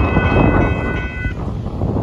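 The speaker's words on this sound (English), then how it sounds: "Northbound Union Pacific grain train at dittmar Road in Austin, Texas." A northbound Union Pacific grain train passes at Dittmar Road in Austin, Texas, rumbling loudly and steadily with a heavy low roar, while a brief horn-like tone sounds over it before fading.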